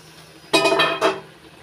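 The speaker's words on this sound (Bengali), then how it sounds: "এবার ঢাকনা তুলে নিচ্ছি।" A metal lid clanks twice as it is lifted off a pot of spinach, lentil nuggets, potatoes and beans that has been steaming. The two sharp knocks come close together against an otherwise quiet kitchen.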